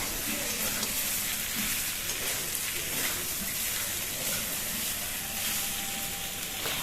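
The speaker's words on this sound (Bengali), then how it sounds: "মশলাটাকে দিয়ে নাড়িয়ে নেব যাতে মশলাটা সমস্ত জায়গায় লেগে যায়, পটলের সমস্ত জায়গায়" Spice-coated pointed gourd (potol) frying in a pan, a continuous dense sizzle like steady rain with faint stirring movements, even in level throughout.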